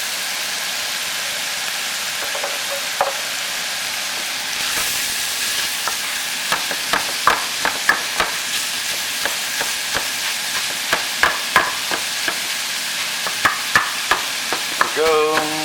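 Pork sausage sizzles steadily in a pan for spaghetti sauce while a spatula breaks it up, with repeated sharp scraping clicks growing more frequent toward the end.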